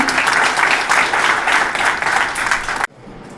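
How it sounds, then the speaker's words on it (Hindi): An audience at a diagnostic centre event claps for the trust's chairman, loud dense applause that cuts off sharply near the end. "एक बार जोरदार तालियां"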